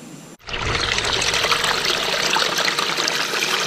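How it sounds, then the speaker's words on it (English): A Gold Hog Multisluice recirculating sluice in field mode switches on with a brief pause, then water rushes and trickles through it in a steady, loud, close stream with no talking. "let's go ahead and turn on the recirculating sluice and get started"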